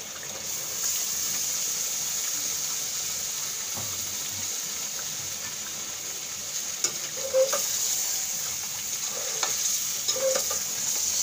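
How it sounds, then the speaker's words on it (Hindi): Fish sizzles in hot oil and fried spice masala for a fish curry, a steady close crackle with occasional soft scraping and clinks of stirring. "अब हम इसमें मछली को डाल देते हैं।"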